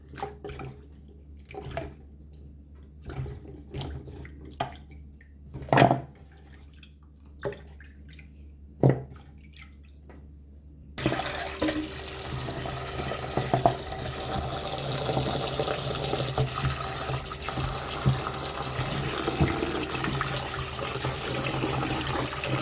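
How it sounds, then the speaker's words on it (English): Chaney roots are washed for Jamaican strong back punch: sparse splashes and drips for several seconds, then a tap opens into a steady, loud running-water rush into a basin that continues to the end. "I'm just going to wash this until it is clean to my satisfaction."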